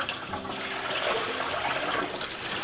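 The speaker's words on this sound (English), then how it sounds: "we'll take it and we'll dump the water just down the sink" Water dumped from an RV filter housing down a sink during winterizing of a Winnebago View, a continuous rushing, splashing pour lasting a few seconds.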